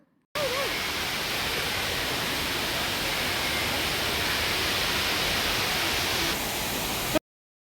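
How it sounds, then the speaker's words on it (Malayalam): Thripparappu waterfall roaring as a steady, loud broadband rush that starts abruptly and holds unbroken for about seven seconds before cutting off, with no voices over it. "അതിനടുത്തൂടെ നടന്നു വരുമ്പോൾ നമുക്ക് വെള്ളച്ചാട്ടത്തിൻ്റെ സൗണ്ട് കേൾക്കാം കേട്ടോ"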